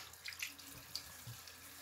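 Tap water runs briefly over a shaving brush at a bathroom sink, a soft close splash and trickle with a few small drips, alone with no voices.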